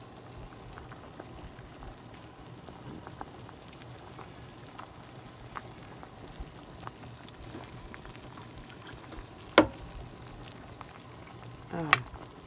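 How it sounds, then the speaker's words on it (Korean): A pot of seaweed soup with shrimp and abalone, made with chicken broth, bubbles at a gentle, steady boil, a soft crackling patter with two brief sharper clinks near the end, quiet and close. "아주 맛있는 새우 전복 미역국을 끓이고 있어요."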